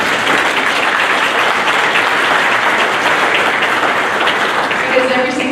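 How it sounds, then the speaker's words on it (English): A banquet crowd at a Disney World celebration claps for the servers, a dense, steady roar of applause that holds loud and even from start to finish with no talk over it. "will you please give our servers a round of applause?"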